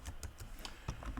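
Code being typed on a computer keyboard during a Python programming lesson, a quick run of light, evenly spaced key clicks, soft and close with no voices.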